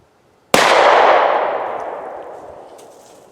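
.38 Special revolver fired once into a penetration test target, a single sharp loud report after brief silence, followed by a long ringing decay that fades over several seconds.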